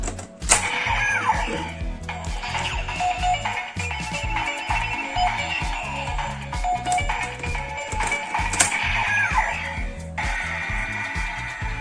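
A DX Zi-O Ridewatch II toy plays its electronic sound effects, a busy, looping stream of beeps, chimes and a rhythmic musical pattern, loud and close, with no talk.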